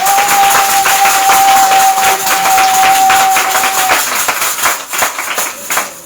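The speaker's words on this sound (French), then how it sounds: "On acclame puissamment Jésus." A church congregation at a worship service in Yamoussoukro loudly acclaims Jesus, with sustained rhythmic clapping and crowd noise over a held musical tone, the clapping growing sharper and more distinct near the end.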